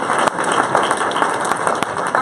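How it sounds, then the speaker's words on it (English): Dense, sustained applause from a reception audience at the 2018 JUNOS Chairman's Reception, an even wash of many hands clapping throughout with a few sharper individual claps standing out. "Another round of applause for that."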